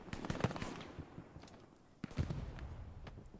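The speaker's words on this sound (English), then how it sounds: "Got an MG over there shooting over top of Armadillo's head" Machine gun fire in Hell Let Loose, during a competitive match on the Carentan map: several quick bursts of rattling automatic shots, fairly faint and distant, separated by a brief lull before another burst.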